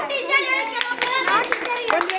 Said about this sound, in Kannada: ವೆರಿ ಗುಡ್, ಚಪ್ಪಾಳೆ ಹಾಕ್ರಿ.